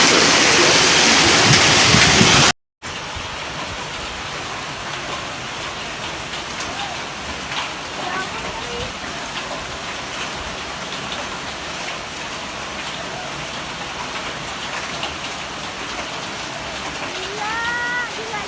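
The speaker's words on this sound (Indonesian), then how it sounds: "Ini hari ini terjadi hujan es di Yogyakarta." A hailstorm with strong wind pounds down in Yogyakarta, a dense, loud, continuous pelting roar of ice and rain that runs unbroken apart from a brief cut near the start.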